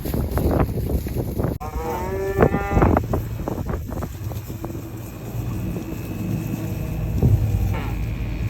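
Cattle moo repeatedly as a feed truck arrives on a bitterly cold day, with loud, drawn-out bellows near and farther off over a steady engine rumble and wind buffeting the microphone.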